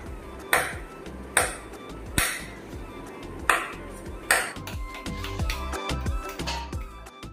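A coconut is struck with a big tool in five sharp, ringing blows spaced about a second apart, followed by softer tapping and clattering sounds.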